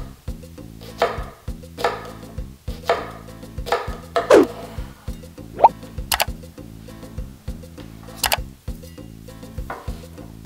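Knife cutting nopales (cactus paddles) in half on a board, a series of separate crisp chops and slices spaced about a second apart, close and clear, over a steady background of music.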